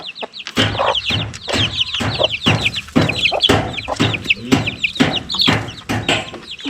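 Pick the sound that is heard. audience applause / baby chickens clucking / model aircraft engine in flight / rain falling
baby chickens clucking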